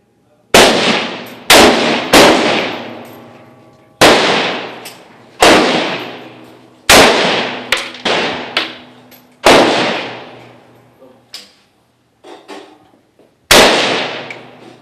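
Submachine guns fired at a shooting competition beneath the windmill in Holíč, Slovakia: about a dozen loud, sharp reports, each trailing off in a ringing echo, spaced irregularly with short pauses between them.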